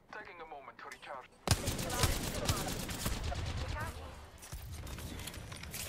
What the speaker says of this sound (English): I'm taking fire. Getting shot at.